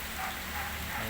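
Steady rain falls on surfaces outdoors, a soft, even hiss at low volume with no voices.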